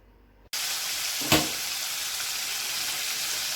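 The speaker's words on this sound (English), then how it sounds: "we are frying our chicken" Flour-coated chicken pieces drop into hot oil for deep frying, bursting into a loud, dense sizzle that continues steadily, with a brief sharper crackle just after the start.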